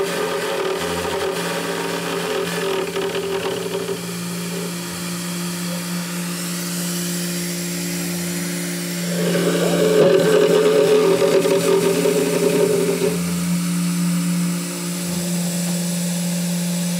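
A 3018 CNC router milling aluminum while making a vise, a steady high spindle whine with humming harmonics and grinding cutter chatter that grows louder midway, continuous and close.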